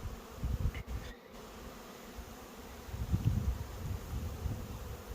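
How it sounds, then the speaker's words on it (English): Honey bees on an orientation flight in sunshine at a beekeeping yard, a steady low swarm drone of many insects near and far, rising and falling with wind rustle and no talking. "The sun just come out, so the bees are having an orientation flight."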